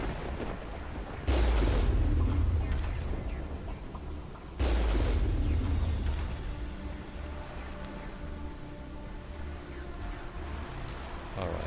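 Gunfire in the Mass Effect video game during a Krogan standoff: a couple of heavy, booming shots with long rumbling tails, loud and close, separated by a few seconds of ambient battle noise.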